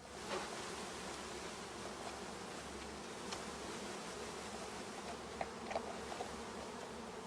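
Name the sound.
honeybees being shaken into hive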